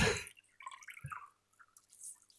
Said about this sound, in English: oh, I'm spilling